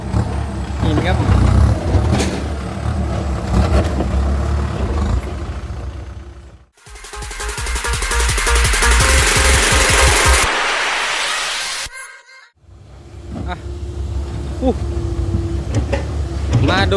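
Kubota M6240 SUH farm tractor fitted with a modified exhaust pipe, its engine roaring loud and close in revving bursts, with a sudden drop to near silence between surges and people talking over the engine noise.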